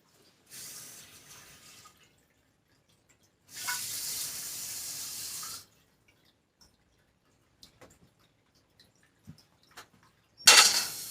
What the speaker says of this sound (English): we're just going to put some water in this pan.